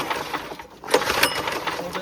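A small minibike engine, just pulled from the water where it had sunk, buzzes in a fast rattling idle close by, with people talking and shouting over it.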